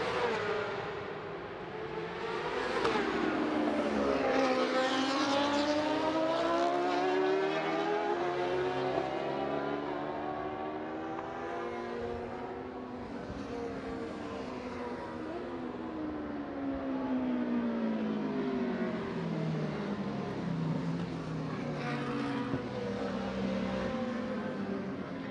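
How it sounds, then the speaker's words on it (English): Racing motorcycles roll slowly into position on the Macau Grand Prix street circuit. Several engines drone continuously nearby, their pitches rising and falling and overlapping. "The bikes just gently making their way into position."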